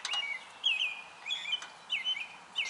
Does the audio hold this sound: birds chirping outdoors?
yes